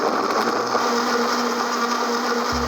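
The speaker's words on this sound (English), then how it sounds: "now we're just gonna take this over to the blender. Okay, we're gonna start on a lower speed." A blender runs on low speed, blending a frozen watermelon margarita with a steady, loud motor whir and grinding that holds for the whole stretch, with no one talking.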